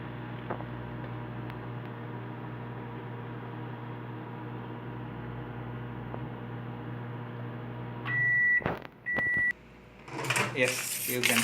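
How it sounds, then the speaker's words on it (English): Microwave oven running while roasting papad, giving a steady low hum for about eight seconds, then several short beeps, a door clunk and brief voices at the end. "we'll microwave it for another 30 seconds."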